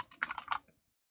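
Short burst of computer keyboard typing while setting up software for a documentation pull request, a quick cluster of key clicks lasting under a second, close and clear, then silence.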